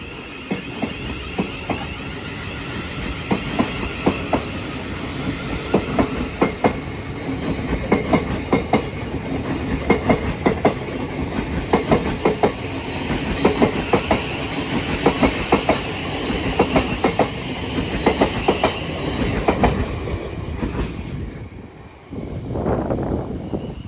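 Class 377 unit 377143 on a London Victoria service rolls through East Croydon, close and loud, its wheels beating a quick clickety-clack rhythm over the joints before the sound drops away near the end.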